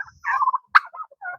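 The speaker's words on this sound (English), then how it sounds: "we have way too many turkeys" Turkeys on a small farm with goats and chickens give a few bursts of rapid, warbling gobbles, fairly close and clear, with short pauses between calls.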